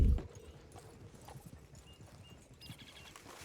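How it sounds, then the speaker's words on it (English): Galloping horse hooves in the video game Red Dead Online, a steady run of close clip-clop beats continuing for a few seconds while the horse heads into a building. "let's just see if my horse just crashes into the building."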